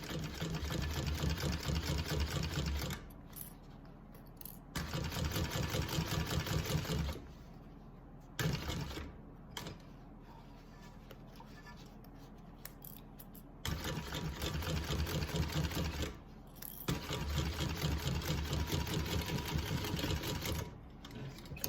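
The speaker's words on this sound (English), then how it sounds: "you are doing a 1/2 inch seam allowance up the side" A Simply Classic sewing machine stitches a half-inch side seam in loud, fast bursts of steady mechanical whirring. Several runs are separated by short pauses, with quiet handling noise in the gaps.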